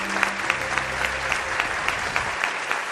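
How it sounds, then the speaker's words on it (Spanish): Studio audience applause for a guest on a Spanish television programme about UFOs and paranormal mysteries, dense and steady throughout with individual claps standing out now and then. "Otro aplauso os pido para él"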